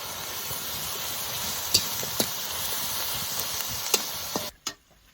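Ginger, garlic and onion paste fries in a large wok with a steady, close sizzling hiss, broken by a few light scrapes of stirring before the sound cuts off abruptly.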